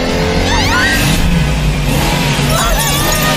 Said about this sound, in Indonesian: menabrak mobil para pembeli tersebut dengan keras